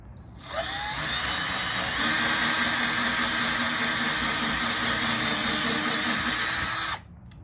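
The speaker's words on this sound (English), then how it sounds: "So I'm gonna drill this out" A power drill bores out a rivet on the mirror trim of a 1981-86 Ford Mustang convertible, a steady close whine running unbroken for about six seconds before stopping abruptly.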